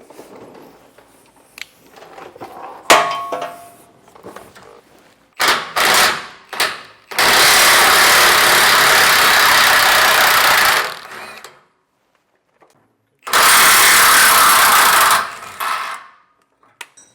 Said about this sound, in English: I'm going to be using an impact